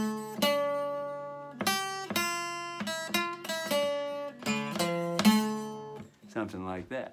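An acoustic guitar strums the Star Spangled Banner recast in a minor key, a sequence of ringing chords and single struck notes with short gaps between them, heard up close and alone.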